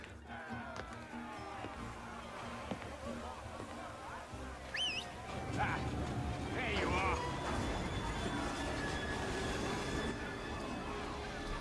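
A steam-era train rolls through Victorian London in Assassin's Creed Syndicate, a steady clattering rumble with squealing wheels that grows louder in the second half, mixed with game effects.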